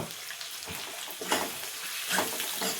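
Capsicum and potato masala with turmeric frying in a pan, a soft sizzle with a few scraping stirs of a spoon, faint and close.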